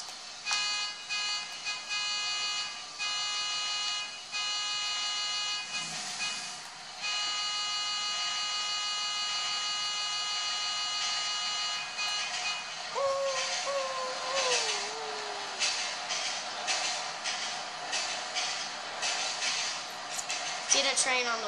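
Freight train rolling past in Grand Theft Auto 5, a sustained buzzing, whining rail drone with steady tonal layers and a bending squeal partway through, continuous and fairly loud with no talking.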